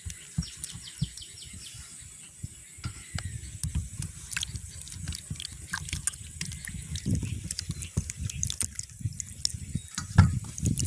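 Small mangoes are rinsed by hand in water outdoors in a village, giving quiet drips and soft sloshes while birds chirp in the background.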